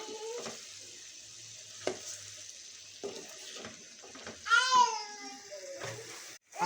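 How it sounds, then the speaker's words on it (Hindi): Chicken and bell peppers sizzle and crackle steadily in gravy in a pan while a spoon occasionally scrapes and stirs; a voice is faintly heard at moments. "अब हम इसे अच्छे तरीके से इसमें ग्रेवी में भून लेते हैं।"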